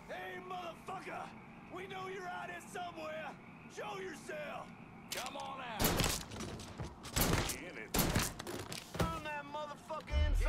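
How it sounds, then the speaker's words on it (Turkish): Bursts of machine gun fire in the video game Mafia 3 come in several loud, dense clusters in the second half, mixed with shouting game voices and someone talking throughout. "Gerekse makinalı tüfeğimizi kullanırız."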